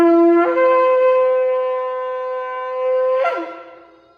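A shofar sounding a tekiah, one long steady horn blast held for about three seconds, loud and close, with a brief waver near the end before it cuts off.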